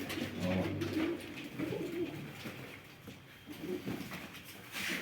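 Grey crested female pigeons cooing in a loft, low throaty coos repeating steadily at close range alongside other birds, with no talk over them.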